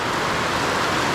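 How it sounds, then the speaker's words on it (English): Rain pours down in the Guatemalan jungle, a dense, even hiss of falling water filling the air for just over a second, with no voices. "Hey guys, I'm in Guatemala and it's raining."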